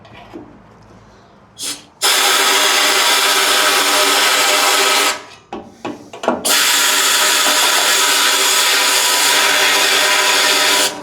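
Noisy air compressor starts and stops in loud bursts of harsh mechanical roar while blowing out a fuel tank, with two long running stretches separated by brief rattly pauses.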